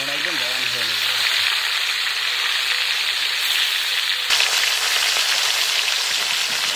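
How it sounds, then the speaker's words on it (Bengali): Fish, a leg piece, frying in mustard oil in a home kitchen, giving a steady broad sizzle that runs throughout, with a voice briefly heard at the start. "এবারে সেই বিখ্যাত মাছটাকে ভেজে নেব তার জন্য সরিষার তেল"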